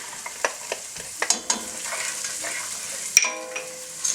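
Ginger and garlic fry with golden-brown onions for chicken rogan josh, a gentle sizzle broken by repeated clicks and scrapes of a spoon against the pan.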